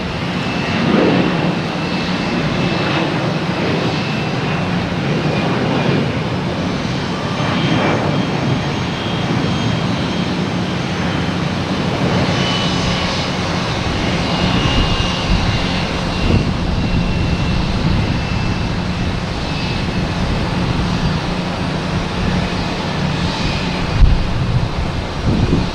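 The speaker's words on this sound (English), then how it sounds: "American Airlines coming in from Miami, a 737-800" An American Airlines Boeing 737-800 arriving from Miami lands at Boston Logan at night, its jet engines roaring loudly and steadily for the whole stretch, with some wind rumble on the microphone.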